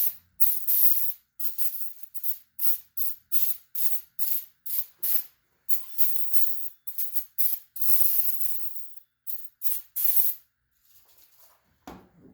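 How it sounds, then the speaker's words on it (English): Brake cleaner from an aerosol can sprayed into the oiler hole of a Husqvarna 44 or Pro Mac 55 chainsaw, coming as a long run of short, sharp hissing bursts with brief gaps between them, loud and close, with no talking. "I'm gonna just take a little brake clean and spray that hole out."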